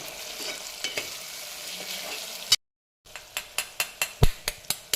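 Spices, green chillies and garam masala frying in a pan for egg rice, with steady sizzle and a spoon stirring; after a short cut, a quick run of sharp metallic taps against the pan, close and clear.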